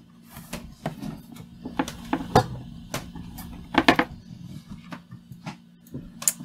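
Several sharp metallic clicks and snaps from a cutting tool biting through a chain mail ring during hand mail-making, close up and irregularly spaced, with no talking.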